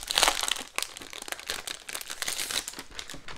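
Plastic packaging of a December Daily scrapbook kit crinkles and crumples continuously as it is pulled open, close and fairly loud, with dense rustling bursts and no voices.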